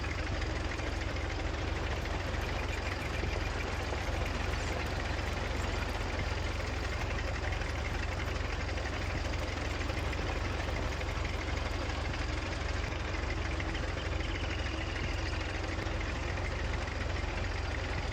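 A tractor engine idles in Farming Simulator 19, a continuous low rumbling drone with a faint knocking texture that holds steady throughout, with no talking.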